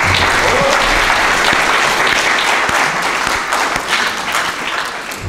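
A church congregation claps at a Sunday service after a cantata, steady and dense applause from many hands filling the room, gradually thinning near the end.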